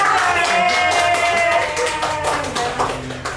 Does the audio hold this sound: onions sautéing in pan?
no